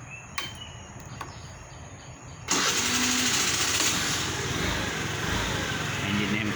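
A Japanese Honda motorcycle engine fires up after a couple of seconds of quiet handling noise, then settles into a loud, steady, close-up idle that runs to the end.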